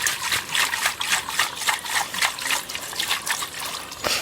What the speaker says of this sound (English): there's this little pool here, right? A little pool, and that's what gathers the water, and then it comes into the pipe and sort of fills up